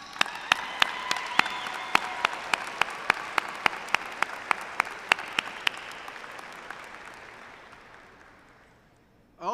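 A large audience at a law school hooding ceremony breaks into sustained applause, with distinct near claps punctuating the dense crowd clapping, which gradually fades away toward the end.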